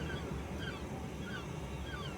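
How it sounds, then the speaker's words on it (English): Wild birds call noisily outdoors, with goose-like honks and squawks repeating over a steady background wash, heard from some distance with no talking. "Why are the birds going wild up there, I wonder?"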